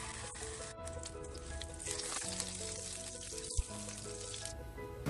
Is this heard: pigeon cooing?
no